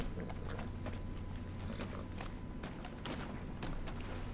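Horse hooves walk in the video game Red Dead Redemption II, soft repeated clops at an even pace over a low, steady background rumble.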